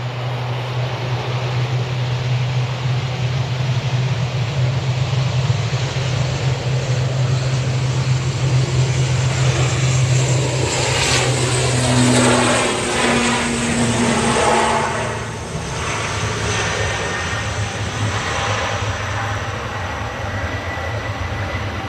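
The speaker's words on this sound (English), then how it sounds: "That's a plane." An ATR turboprop airliner passes at Manchester Airport, a loud sustained propeller drone and engine roar with a steady low hum that swells and then shifts pitch as it goes by, heard alone.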